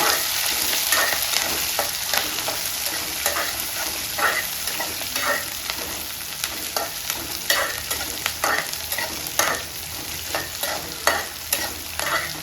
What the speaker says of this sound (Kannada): ಕರಿಬೇವು ಕೂಡ ಹಾಕ್ತಾಯಿದ್ದೀನಿ ಒಂದು ಎರಡು ಕರಿಬೇವು ತೊಗೊಂಡಿದ್ದೀನಿ ಚೆನ್ನಾಗಿ ಫ್ರೈ ಆಗಬೇಕು ಇದೆಲ್ಲ